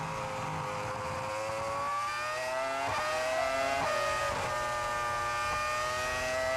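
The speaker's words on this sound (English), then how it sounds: "the revs were noticeably much higher on that Honda engine than the Ferrari engine following through" A Honda Formula 1 racing car engine from 2004 at the Australian Grand Prix revs high and steady, pitch rising and dipping with gear changes, loud and continuous with no talking.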